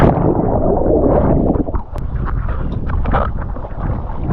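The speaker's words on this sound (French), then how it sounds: "Il y a une rafale qui arrive." Steady wind roar and rushing water while wingfoiling, a gust building as a loud broadband whoosh with gurgling splashes, close and continuous.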